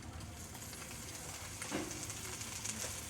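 A sliced jalapeno sizzles in a frying pan on low heat, a steady close hiss of frying that holds evenly throughout with a slight swell near the middle.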